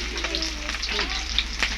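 Fish frying in hot oil makes a dense, close, steady sizzle and crackle with a low hum underneath, while faint voices murmur in the background.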